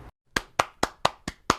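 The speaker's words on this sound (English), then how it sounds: "clapping" Six sharp hand claps made as a foley sound, evenly spaced and close, each a crisp isolated smack after a brief silence.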